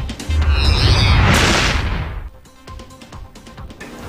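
A loud, close boom of an illegal crying cow firecracker bursting during New Year celebrations, a broad roaring blast that fades into scattered crackles and distant pops.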